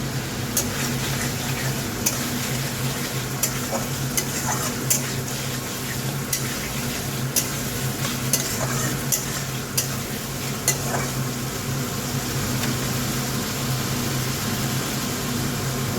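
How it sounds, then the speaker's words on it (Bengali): Potatoes fry with spices in a pan for a fish curry, stirred with a steady run of scraping clicks over a constant close sizzle, with no talking. "আলু ভেজে মশলা দিয়ে কষাচ্ছি"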